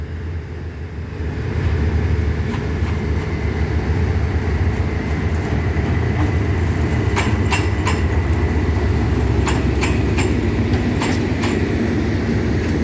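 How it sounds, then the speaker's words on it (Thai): The yellow-fronted GEA 4547 locomotive hauls rapid train 111 (Bangkok to Den Chai) out of Bangkok station, a loud, steady rumbling roar that swells after the first second and carries light metallic clicks and squeals. "เช้าวันนี้เรามาพบกับรถเร็ว 111 นะ กรุงเทพเด่นชัย ออกจากสถานีกรุงเทพ"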